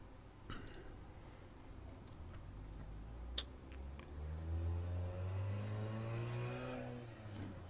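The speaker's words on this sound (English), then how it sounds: "Well, that was a loud car." A loud car passes outside during a quiet home painting session, its engine roar swelling and rising in pitch from faint to close over several seconds before fading, with a sharp tick-like click partway through.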